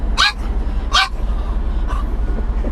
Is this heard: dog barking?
yes